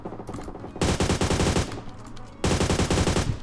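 Gunfire in the mobile battle game PUBG Mobile: two long, loud bursts of rapid automatic shots, close and dense, separated by a short pause.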